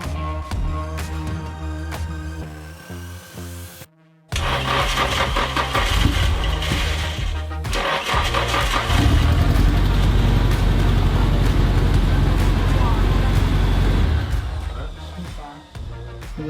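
A Nissan S13 drift car engine cranks and catches after a short pause, then idles and revs loudly and roughly with a tractor-like clatter, running steadily close by with no talk over it.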